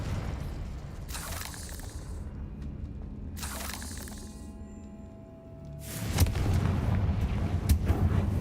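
Confringo explosion spell cast in a video game, two sharp bursts followed by a louder booming blast with a rumbling, crackling tail, near and forceful.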